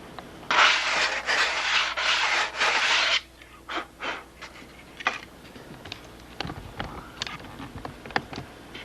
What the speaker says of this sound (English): You got all the doublers all sanded nice and flat.